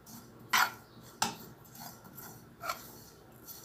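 Sesame dressing stirred in a heated pan: a few sharp metallic scrapes and taps of a utensil against the pan, spaced apart, with quiet pauses between.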